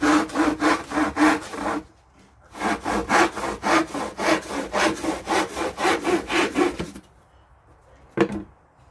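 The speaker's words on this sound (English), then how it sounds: "I just use one of these hand saws from Bunnings" Hand saw cutting a clamped piece of MDF, brisk rhythmic back-and-forth rasping strokes, close and loud, in two runs separated by a short pause, ending with a single knock.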